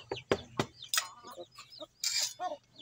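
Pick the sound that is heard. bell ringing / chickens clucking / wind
chickens clucking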